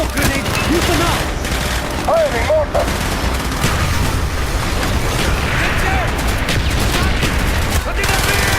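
Dense gunfire in the Call of Duty Black Ops video game, a continuous loud fusillade of rapid automatic bursts and mechanical clatter filling the scene, with shouted voices in the mix.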